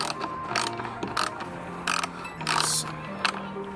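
Ratchet wrench clicking in short bursts while removing bolts from a car's taillight and license plate light area, with intermittent mechanical ratcheting and faint background noise.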